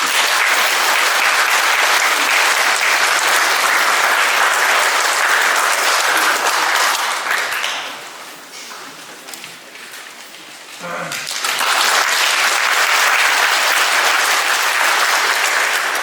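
Audience applause fills a Catholic parish hall during an appointment ceremony for standing pastoral committee members, loud and sustained, dipping briefly to a quieter stretch before swelling again.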